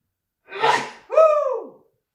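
A single close sneeze: a sharp inhaled gasp, then a loud, tonal burst that trails off, heard alone in a quiet room.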